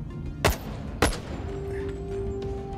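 Two sharp gunshots in the VR game Boneworks, about half a second apart, each with a short decaying tail, followed by a quieter stretch with faint background tones and no talk.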